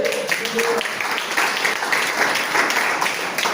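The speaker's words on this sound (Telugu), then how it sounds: "ఒకసారి గట్టిగా చప్పట్లు కూడా ఒకసారి." A crowd at a morning sermon session claps in a dense, steady patter of many hands, with some voices mixed in.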